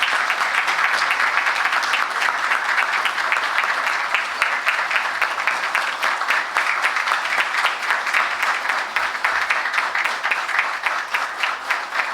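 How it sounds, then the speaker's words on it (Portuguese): Sustained, dense applause from a large audience at a municipal council session honouring company employees, steady and loud throughout, many hands clapping together without pause. "os aplausos a todos os colaboradores"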